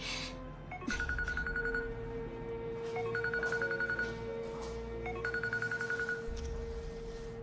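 Telephone ringing indoors, three bursts of a trilling electronic ring spaced a couple of seconds apart over a steady low background hum.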